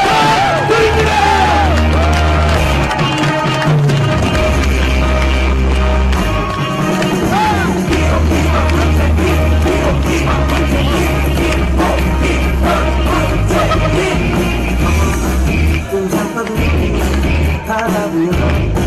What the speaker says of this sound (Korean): 우리 문재인 후보에게 다시 한번 뜨거운 박수